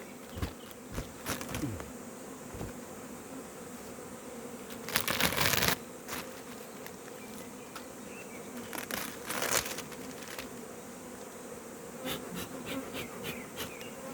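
Honeybees buzz continuously at close range while being fed pollen cake, a steady faint drone broken by a few louder bursts as bees fly past the microphone, with light rustling and crinkling throughout.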